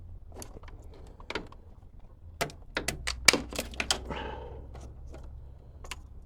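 Plastic tabs on GMC Yukon lights clicking and snapping as they are squeezed and twisted, a quiet cluster of sharp ticks and creaks.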